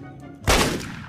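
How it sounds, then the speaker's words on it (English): A shotgun fires in the video game Deadbolt, a single loud, close blast with a sharp onset and a decaying tail over a faint game background. "Shotgun."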